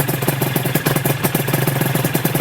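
A Honda NSR250 MC21 motorcycle idles close by with a rapid, even engine thrum that holds steady throughout.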